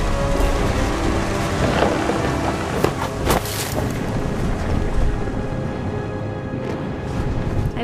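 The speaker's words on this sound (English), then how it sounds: "The thunder sounded much too close and full of angry power." Thunder and steady rain from the video game What Remains of Edith Finch, a dense continuous downpour with a few sharper cracks and rumbles breaking through, loud and close throughout.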